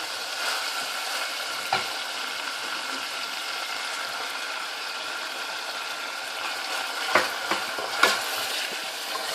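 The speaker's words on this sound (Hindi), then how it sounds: "दही डाल दी है और इसको अच्छी तरह मिक्स कर लिया" Yogurt stirred into chicken karahi cooking in a pan: a constant moderate sizzle with occasional spoon knocks against the pan, several of them late on.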